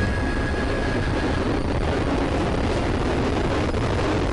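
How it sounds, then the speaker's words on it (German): A steady, loud roaring rush of engine noise from a spaceship lifting off again in the video game Pikmin, continuous and broadband with no talk. "Und das Raumschiff startet wieder."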